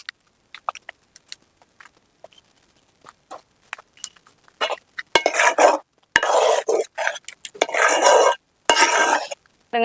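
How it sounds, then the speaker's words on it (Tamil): Cotton seed milk halwa being stirred in a pan, with bursts of scraping and sticky stirring strokes growing louder and more continuous in the second half, alone without talk. "இந்த பதம் வர வரைக்கும் நல்லா கிண்டிகிட்டே இருக்கணும்."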